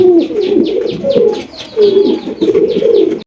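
A large black magpie pouter pigeon coos in a steady run of close, repeated rolling calls, loud and alone.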